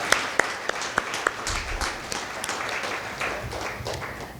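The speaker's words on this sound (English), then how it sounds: "Let us have a huge round of applause for them." An audience at a fireside chat event gives a round of applause, a few sharp early claps swelling into steady, moderately distant clapping from a modest crowd.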